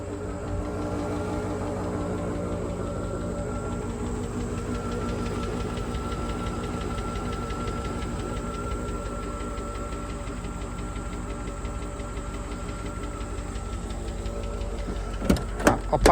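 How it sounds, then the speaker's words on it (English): The engine of a 2004 Land Rover Discovery 2 SE idles while warming up, giving a steady, fast ticking over a constant low hum, with a few sharp clicks near the end. "this Land Rover has the famous engine ticking, and it's just starting now"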